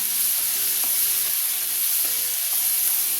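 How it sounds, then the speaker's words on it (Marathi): Green chili kharda paste sautéing in hot oil for spicy village-style kharda chicken, giving a steady close sizzle with occasional stirring scrapes throughout. "हे छान आपल्याला तेलावर परतून घ्यायचंय। ह्या मसाल्याला पूर्ण तेल सुटलं पाहिजे।"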